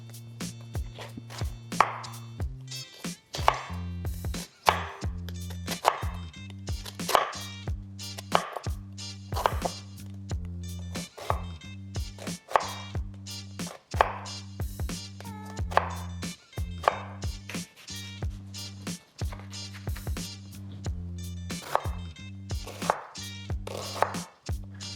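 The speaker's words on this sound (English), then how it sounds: "Now to dice." Vegetables diced with a knife on a cutting board set over a towel, a steady stream of quick, crisp chops repeating close up for the whole stretch, with no talking.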